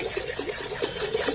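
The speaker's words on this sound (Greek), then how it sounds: "γεμίζουμε την χύτρα μας με βροχόνερο" Rainwater pours into a pot for chamomile distillation, a soft continuous splashing and trickling at moderate level.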